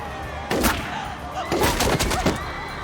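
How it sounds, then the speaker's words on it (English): Gunshots in the cartoon video game Family Guy: Back to the Multiverse, a few loud, sharp cracks spaced over a couple of seconds against a busy game soundtrack. "Nope, he shot Mayor McCheese."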